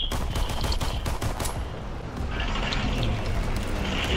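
Rapid gunfire from a Call of Duty WWII beta match, with dense, continuous cracks of shots and bursts ringing out close and loud throughout, and no talk.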